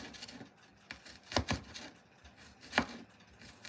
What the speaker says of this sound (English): So I'm just kind of chopping up this garlic, not doing anything fancy.